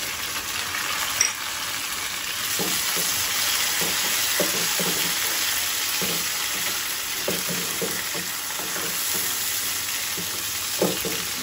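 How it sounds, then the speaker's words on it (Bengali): Steady sizzling of fried onion with tomato and ginger in a hot pan, with occasional soft scraping as it is stirred; no voices. "আমি আস্তে আস্তে একটু ভেজে নিই, তারপর বাকি মশলা দেবো।"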